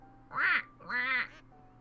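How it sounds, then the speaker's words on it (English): A duck quacking in the Lil Guardsman video game, two loud, close, nasal quacks in quick succession with nothing else over them. "Little duck noises and stuff."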